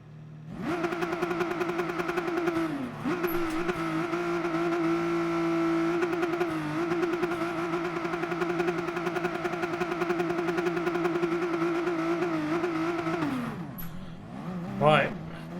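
A Nissan GT-R Super GT race car in Gran Turismo Sport drones with a steady, high engine tone through the race start, dipping briefly on shifts and fading near the end.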